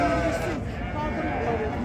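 Sheep bleat at a crowded sheep market in Ganja, Azerbaijan, with a few wavering calls rising over close-up haggling voices and general market chatter.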